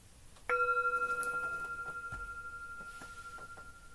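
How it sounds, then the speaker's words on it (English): A meditation bell struck once, ringing out with a clear sustained tone that slowly decays over several seconds, heard alone in a quiet room. "I'm going to ring the bell."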